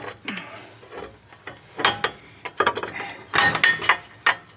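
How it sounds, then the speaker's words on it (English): Metal clanks and rattles come in irregular bursts as bolts are pushed through a steel bracket during fitting of a rock guard kit on a 2011-2016 Ford F-250, close and uneven. "shove all the bolts through the main bracket at the same time"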